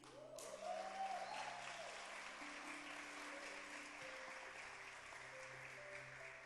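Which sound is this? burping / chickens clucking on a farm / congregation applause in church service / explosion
congregation applause in church service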